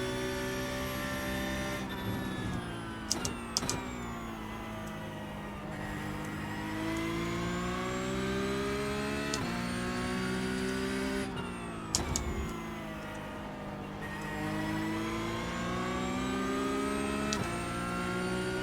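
A Porsche Cup race car in a sim racing game at Donington, its engine droning and climbing in pitch through several sustained accelerations, with brief gear-change dips and occasional clicks, steady and fairly quiet throughout with no talking.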